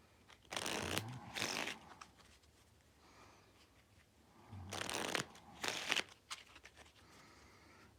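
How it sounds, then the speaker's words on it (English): Linen-finish game cards for the tabletop game Foodie Forest are shuffled in two close, crisp bursts of riffling, each about a second long, separated by a few seconds of quiet room tone. "I need to shuffle up the cards."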